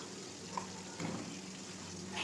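Chopped tomato sautéing in oil with mustard seeds and curry leaves, cooked for a traditional Bhogi mixed vegetable dish: a quiet, steady sizzle and crackle with a few small pops and stirring scrapes.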